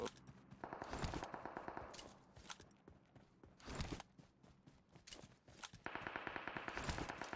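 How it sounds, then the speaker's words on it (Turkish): Rapid bursts of automatic gunfire from a firefight in the PUBG Mobile video game, with repeated loud volleys and sharp shots separated by brief pauses. "Sağda çatışma var."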